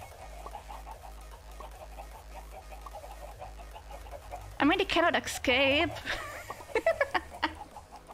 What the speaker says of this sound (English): Do you think that the spider chickens are okay?